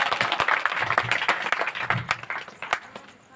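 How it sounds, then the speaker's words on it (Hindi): An audience claps at a village poetry gathering, a dense burst of applause that thins out toward the end, close and fairly loud. "अपने सरपंच के लिए और अपने सम्मान के लिए आप स्वयं तालियां बजा सकते हैं"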